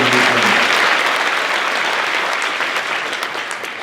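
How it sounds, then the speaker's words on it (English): Academic awards ceremony audience bursts into loud, dense applause that starts strong and gradually tapers off over a few seconds. "give him the applause and the"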